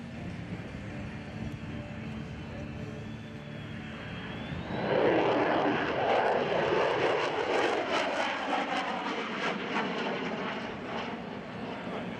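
An F-35A fighter jet roars past at an airshow, its engine noise swelling from a distant whine into a loud, broad rumbling roar that holds and slowly fades with a descending tone.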